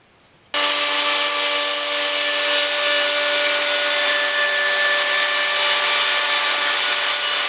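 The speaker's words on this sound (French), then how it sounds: "Je cale toujours ma défonceuse pour éviter de basculer d'un côté ou de l'autre." A French woodworker's router cuts wood on a braced machine for a sphere built from rails and raised panels; the steady high-pitched motor whine starts abruptly after a moment and runs on loud and close, with no talk.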